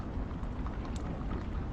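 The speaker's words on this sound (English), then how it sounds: "It's certainly raining cats and dogs tonight." A steady hiss of heavy rain, used as a sound effect in an old Sherlock Holmes radio drama, fills the scene evenly with no voices.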